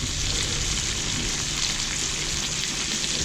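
Continuous loud, close sizzling and spitting of chicken frying in a hot pan, hissing steadily with no talking.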